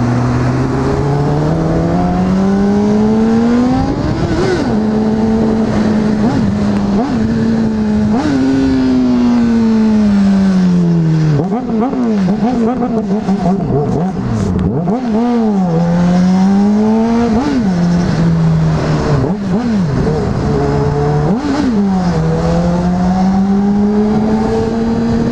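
A Honda CBR600RR sport motorcycle is ridden on the road, its engine droning steadily close up, the pitch rising and falling repeatedly through gear changes and throttle swells for the whole stretch, with no talk.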